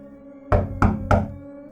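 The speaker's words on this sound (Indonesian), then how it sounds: "Ketukan pintu itu sekarang lebih kencang, menjadi sebuah gedoran." Three loud, resonant knocks on a door, evenly spaced and close, each a sharp thud with a short ringing tail, over a quiet background in a horror story sound effect.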